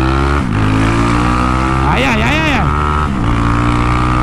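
A Today Zona 370cc scooter engine drones loud and steady during a top speed test, with wind rumble and a brief rise and fall in pitch midway. A voice speaks briefly over it.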